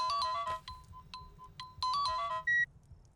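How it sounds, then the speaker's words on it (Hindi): A mobile phone's ringtone plays short bright electronic melodic phrases in bursts with brief gaps, ending on a single sustained tone, fairly quiet and with no voices. "माया का फोन।"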